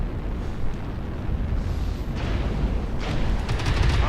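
An airstrike lands in the MechWarrior Online game as a heavy, sustained rumbling blast that stays loud throughout, with crackling bursts layered over a deep low roar.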